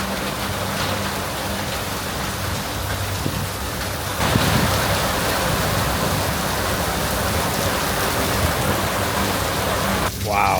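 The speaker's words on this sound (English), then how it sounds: "That is straight hail." Large hail pounds down in a garden during a bad-weather spell, a dense, continuous roar of ice striking surfaces that swells louder partway through, with a brief rustle at the very end.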